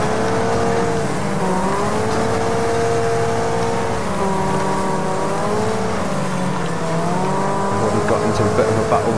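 A Bulldog car races in Wreckfest at the Rosenheim Raceway Stadium against a full grid of 23 opponents. Its engine drones loud and steady, and the pitch rises and dips as the car shifts and revs through the laps.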